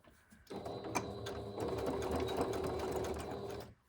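A sewing machine runs a wide zigzag stitch over yarn laid on a fabric folio, starting abruptly and whirring steadily and close for about three seconds before stopping.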